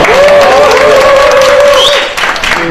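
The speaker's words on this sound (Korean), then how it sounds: "박수 드립니다." Close, loud clapping from an audience at a talk on rural farm life, a short burst that fades near the end, with a sustained tonal voice or sound running over it.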